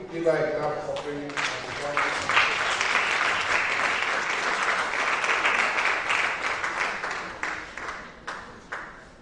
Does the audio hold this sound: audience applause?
yes